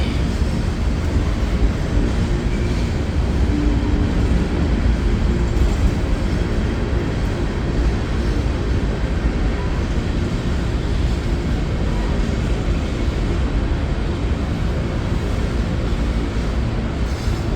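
A long CSX freight train rolls past on the old B&O main line, a loud continuous rumble and rattle of wagons on rails that stays steady and close for the whole stretch.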